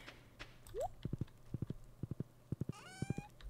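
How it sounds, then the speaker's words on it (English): Horse hooves in the Stardew Valley farming video game clip-clop in quick clusters of two or three steps, steady and fairly close, with a brief chime and a rising tone over a soft game-music bed. "Let's put the horse back."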